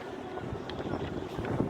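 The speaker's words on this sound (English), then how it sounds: "It's a little windy today." Wind gusts outdoors buffet the microphone, a steady rumbling roar with swelling and fading blasts, loud and close, with no speech heard.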